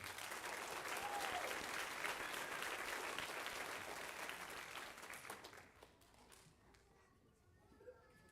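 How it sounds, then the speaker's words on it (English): Applause from a school audience at a spring band concert fills the first five seconds, then thins out and fades into quieter scattered claps and room noise. "One more round of applause for 4th period."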